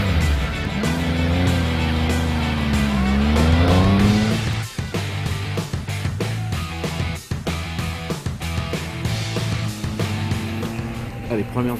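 A 2016 Triumph Speed Triple 1050 R three-cylinder motorcycle engine pulls hard, its pitch rising as it accelerates, then breaks into staccato revs and gear changes, close and loud.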